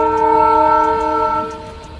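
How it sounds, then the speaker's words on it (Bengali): A train pulling into New Bongaigaon railway station sounds a loud, sustained horn with a steady tone that eases off slightly near the end, over a low rumble. "দেখতে পাচ্ছেন বন্ধুরা আমাদের ট্রেন এখন ঢুকছে নিউ বঙ্গাইগাঁও রেলওয়ে স্টেশনে"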